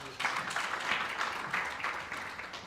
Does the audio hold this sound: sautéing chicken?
no